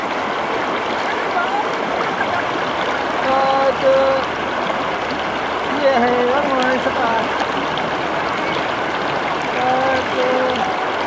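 Stream water flows and gurgles underfoot on a camping trip in Tanay, making a steady rushing trickle throughout while people talk and call out over it.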